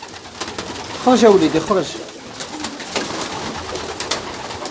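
Pigeons coo in a short burst close by, while people talk over a noisy outdoor background.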